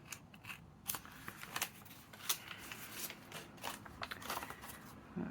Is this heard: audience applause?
no